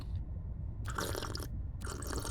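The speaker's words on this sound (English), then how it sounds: "the swallowing sound she makes is so cursed" A video game character gulps water in two wet, crunchy swallows about a second apart, close and fairly quiet, with no talk.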